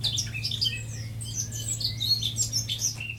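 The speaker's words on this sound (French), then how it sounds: "enrichir son incroyable sonothèque du chant de la fauvette à tête noire qu'il vient de capter" Eurasian blackcap singing in a nature recording, a run of bright, rapid warbling phrases and chirps over a steady low hum, close and clear with no voices.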